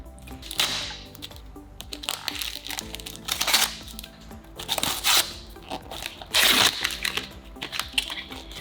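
Gift-wrapped perfume package being unwrapped, the paper crinkling and crackling in uneven close-up bursts, with louder tears here and there and no talking.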